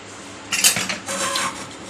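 A pressure cooker holding soaked chana dal, cooked for three whistles, is opened: a short metallic scrape and clatter of the lid, then a brief rasping rub, close and fairly quiet.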